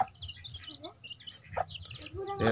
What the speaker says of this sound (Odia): ଏଇଠି ଦେଖନ୍ତୁ ମୋର କୁକୁଡ଼ା ଗୁଡ଼ାକୁ ସାଙ୍ଗେ ସାଙ୍ଗେ ଡାକିଦେଲି, ସାଙ୍ଗେ ସାଙ୍ଗେ ପଳେଇ ଆସୁ।